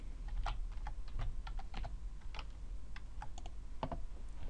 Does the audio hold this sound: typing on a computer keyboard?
yes